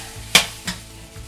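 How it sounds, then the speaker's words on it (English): Soy sauce poured into fried rice frying in a hot pan, giving two short bursts of sizzle, the first sharper and louder, over a low steady background with no talking. "Let's throw some more soy sauce in there."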